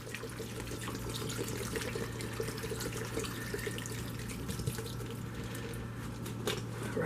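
Water runs steadily from a tap into a pot of thick beef stew with vegetables, a continuous close splashing stream under a low hum, with no talking.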